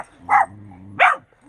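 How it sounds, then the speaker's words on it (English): Two sharp barks from pet dogs, about half a second apart, loud and close with a short quiet hum between them and no talk over them. "my dogs are yakking"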